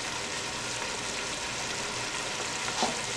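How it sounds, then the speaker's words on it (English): Steady, dense sizzling hiss of water poured into a hot pan of meat cooking on high heat, loud and continuous throughout, with a slight surge near the end. "And now I'm going to pour some water in there"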